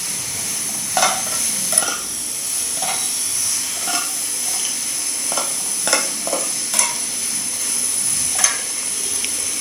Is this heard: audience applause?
no